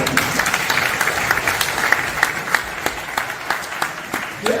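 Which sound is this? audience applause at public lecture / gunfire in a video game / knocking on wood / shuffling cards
audience applause at public lecture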